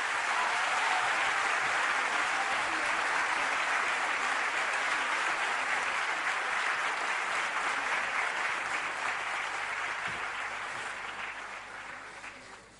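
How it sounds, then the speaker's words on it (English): Sustained audience applause at a medical college function, dense clapping from a large crowd that holds steady and then fades out toward the end. "A big round of applause, please."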